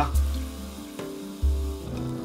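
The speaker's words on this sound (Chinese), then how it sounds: "这个你看油温沸腾的时候加入一点料酒。 料酒呢，先放老抽" Cooking wine and dark soy sauce hitting hot lard with pork in a wok, two bright bursts of sizzling and frying with a quieter crackle between them, close and alone.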